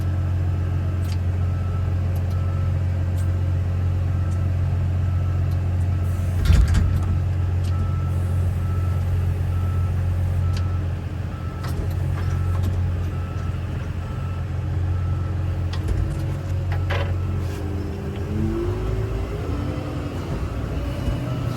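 A front loader's diesel engine runs in a steady low rumble while it moves track barriers at Stafford Speedway. It holds a constant near drone with a brief louder knock early on and faint scattered clatter, and no voices.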